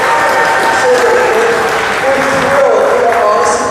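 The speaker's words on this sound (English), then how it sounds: "Give yourselves a round of applause for that." An audience at a charity fundraising event claps and cheers loudly and continuously, a thick, steady wall of applause with voices rising faintly through it.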